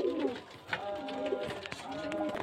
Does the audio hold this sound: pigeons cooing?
yes